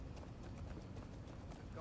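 Horse hooves clip-clop in a steady running rhythm in Crimson Desert, the trotting fairly close under a dense layer of game ambience and possible faint talk.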